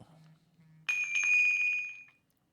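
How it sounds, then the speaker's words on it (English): A bright, high electronic phone notification chime rings out once and lingers about a second before fading, preceded by a low hum. "I heard a bell. Yeah, on my phone."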